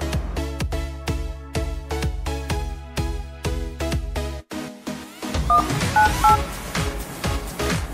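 Dialing on a Redmi Note 7 Pro smartphone: a rapid, evenly spaced run of DTMF keypad tones, then a short pause and a softer ringback-like tone pattern, all clear and close with no talking.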